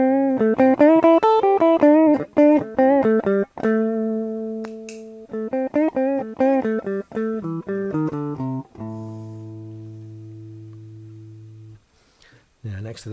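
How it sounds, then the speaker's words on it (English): Guitar played through a TC Spark boost pedal for solos: loud, bright picked notes in quick phrases, broken by a few held notes and pauses, with a final sustained chord ringing out. "a little TC Spark boost pedal for solos, which makes me louder than everyone else"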